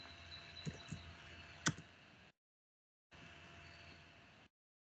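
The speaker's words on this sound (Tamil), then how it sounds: "ஐபன் போட்டு இன்வாய்ஸ்னு டைப் பண்ணுங்க" Light clicking of a computer keyboard being typed on, a few faint taps and one sharper click amid low room noise, broken by a short gap of silence.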